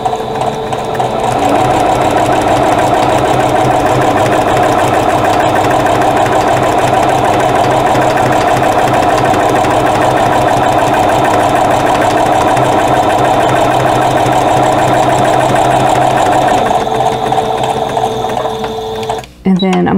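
A sewing machine runs a straight stitch at 2.5 length along drawn lines on a crochet hook wrap, a loud, fast, steady mechanical whir close by, stopping with a brief clunk near the end.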